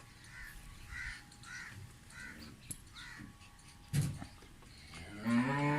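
An Australian Friesian cross cow for sale in Pakistan moos, with a low, drawn-out call swelling loudly at the end, preceded by softer background farm noise and faint bird caws.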